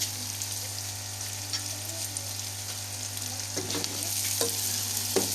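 Onion and tomato masala with green chillies frying in a pan while being stirred: a continuous close sizzle with scraping spoon strokes growing more frequent toward the end, under a low steady hum.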